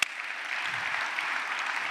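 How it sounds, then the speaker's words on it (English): Steady applause from the audience at the WTTC Global Summit in Riyadh, a moderate, even wash of clapping that begins with a sharp onset and continues without talk. "Can I give him a clap for that?"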